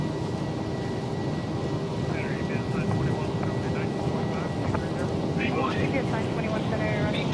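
Simulated Boeing 737-800 jet engines hold takeoff thrust in Microsoft Flight Simulator 2024, a dense, steady, loud roar with faint cockpit voices talking over it.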